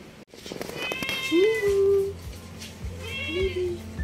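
A young cat gives two clear, drawn-out meows, one in the middle and another near the end, fairly close, with faint background noise.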